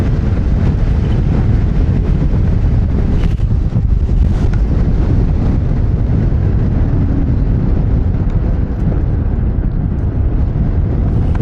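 Steady wind buffets the microphone during a seated electric scooter ride in New York City, a continuous low rumble with no voices over it.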